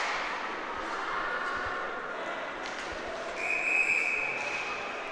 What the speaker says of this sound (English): Our officials blow the whistle a few times